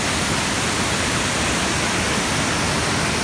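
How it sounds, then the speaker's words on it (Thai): Tat Chanan Waterfall in Bueng Kan, Thailand, pours white water down onto large rocks, making a steady, dense roar that fills the whole moment without a break or any voices. "เป็นคลื่นน้ำตกสีขาวที่ไหลลงมากระแทก ก้อนหินขนาดใหญ่นะฮะ"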